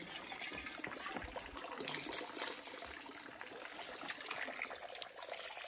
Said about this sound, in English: as I get this water into my jug, and just do a quick rinse.